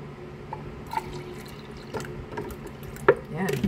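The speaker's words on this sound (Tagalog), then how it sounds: "Lalagyan po natin ng cold water." Cold water is poured into a blender jar of mixed berry smoothie ingredients, giving soft splashing and dripping with a few brighter plinks, close up and moderately quiet.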